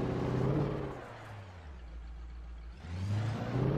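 A truck engine in the video game Alan Wake revs up, drops to a low drone for a couple of seconds, then revs hard again, close and loud.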